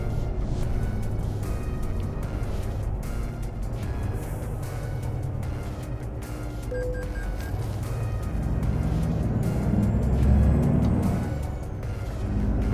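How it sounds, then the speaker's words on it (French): A truck engine in Euro Truck Simulator 2 drones low and steady, then swells briefly louder near the end as it accelerates, with faint clicks and short tones from the game over the rumble and no voices. "Il est vraiment génial le bruit du camion."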